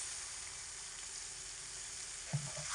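Cashew paste and water-ground poppy seed paste sizzle with soybean chunks in a hot pan, a steady soft frying hiss with a brief louder splutter near the end.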